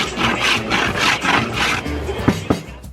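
A block of peanut brittle scraped by hand at a Korean night market street food stall: close, rhythmic rasping strokes in quick succession, ending with a couple of sharp knocks.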